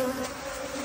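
Honey bees buzzing steadily and densely at close range during the capture of a small swarm, a continuous droning hum with no voices.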